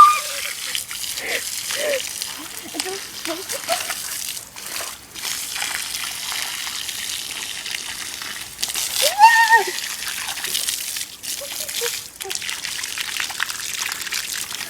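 Garden hose spraying water outdoors in mud while children play, a continuous splashing, pouring hiss close by, with voices and squeals heard over it.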